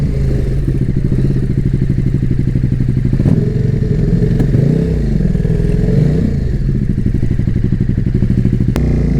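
A KTM RC8 R motorcycle on a race circuit, engine braking hard with the rear wheel sliding: a loud, steady engine drone with rapid pulsing, dipping and rising in pitch, with a few sharp clacks and thuds.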